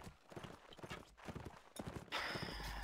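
Cavalry horse hooves clip-clop in an irregular, close rhythm in a Frosthaven-map video game, followed by a sudden louder burst of clashing noise, with no talk.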